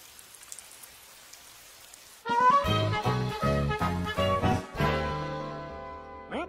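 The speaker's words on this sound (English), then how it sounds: "enjoy some spa music that's mostly rain" Rain played as spa music, with a faint hiss that gives way to a loud, dense patter and splashing carrying on steadily to the end.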